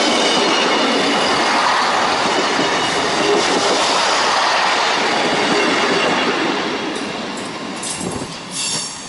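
A train runs straight through a request stop on the line near Barmouth and Fairbourne, a loud, close, continuous roar of wheels and rails with faint squeals that eases off slightly toward the end.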